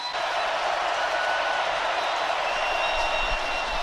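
Steady roar of a stadium crowd at an NFL NFC Championship game between the Rams and Saints, a dense, even wash of noise from far-off voices, constant throughout with no breaks.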